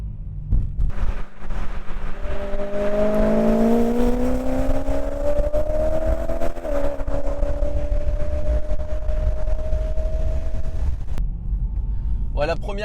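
A BMW M3 E92 fitted with an Akrapovic titanium exhaust revs up, its engine note climbing steadily and then holding a high, droning pitch, loud and close before dropping away near the end.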